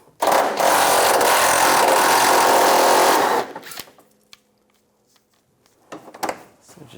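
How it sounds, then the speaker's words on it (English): Power ratchet or driver whirring steadily for about three seconds while backing out 10mm splash-shield bolts on a 2004-2009 Toyota Prius, then dying away, followed by quiet clinks and handling noises. "Using a 10mm socket, take these bolts out."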